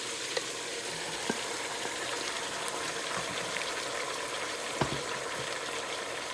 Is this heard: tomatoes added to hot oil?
yes